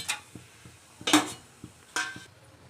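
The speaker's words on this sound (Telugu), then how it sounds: "ముందుగా ఒక ప్యాన్లకు ఆయిల్ తీసుకోవాలి మీరు తగినంత తీసుకోవాలా చెక్క ఇలాచి లవంగ బగారాకు దీంట్లో వేసుకోవాలి" Whole spices go into hot oil in a pan: cinnamon, cardamom, cloves and bay leaf. A few light clinks and rattles land against the metal over a faint, quiet sizzle, close by and with no talk.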